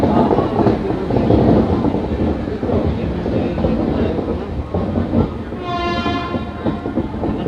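The Amrit Bharat Express, a non-AC sleeper train running Malda to Bangalore, pulls out of Bardhaman station with a loud, continuous rumble and clatter of wagons, and a train horn sounds near the end.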